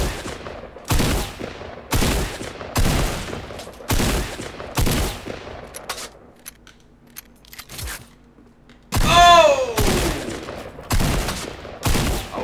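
Drum shotgun blasts in a video game, fired one after another in a steady series of loud, sharp booms about a second apart, with a short quieter gap partway through.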